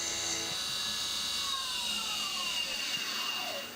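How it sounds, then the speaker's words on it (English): A milling machine takes a finishing pass along the bayonet lug of an AR-15 gas block, giving a steady high-pitched cutting whine with shifting tones and light chatter, fairly quiet and unbroken, with no voices. "that was a finishing pass just to clean up the bottom of that bayonet lug and get rid of the chamfer that's in the corner"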